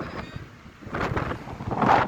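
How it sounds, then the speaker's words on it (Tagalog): Strong gusty wind in Abu Dhabi buffets the microphone in loud, uneven rumbling bursts that swell toward the end. "Lakas ng hangin."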